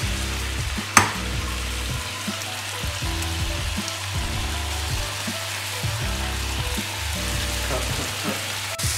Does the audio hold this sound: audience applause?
no